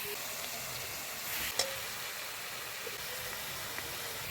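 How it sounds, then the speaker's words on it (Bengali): Vegetables including greens, potato and eggplant with turmeric, chili powder and salt sizzling in a frying pan, a steady close hiss of frying with a single brief clink of a stirring utensil near the middle. "ভালো করে নাড়িয়ে নিব"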